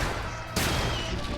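Video game gunfire: a sudden sharp burst cuts in midway and is followed by a dense, rumbling volley. It is loud and close against a steady background din.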